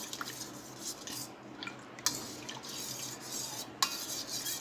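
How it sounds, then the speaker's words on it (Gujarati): A spoon stirs amla juice sweetened with honey and jaggery in a vessel, soft liquid swirling broken by a few sharp clinks against the sides, quiet and close with no voices. "એ બધું સરસ મિક્સ કરી લઈશું"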